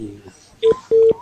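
Two short telephone keypad tones beep in quick succession, close and clear, after a man's speech in Thai.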